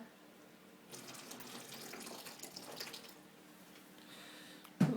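Tap water runs steadily into a basin at home, a soft continuous rush that swells after the first second and carries on for about four seconds before a sudden close knock at the end.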